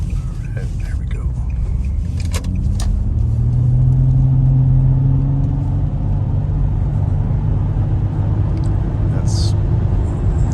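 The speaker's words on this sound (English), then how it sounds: "not even pushing that gas pedal down very, very hard to get up to 60 before we even get to the second curve of this on-ramp" A 2003 Nissan Murano accelerating up a freeway on-ramp, heard from inside the cabin as a steady engine drone rising in pitch over road rumble, with someone talking throughout.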